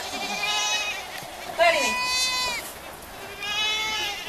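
Goats on a farm on Manitoulin Island, Ontario bleat as they run out to pasture in the rain, several wavering calls rising and falling close by, with people talking over and between them.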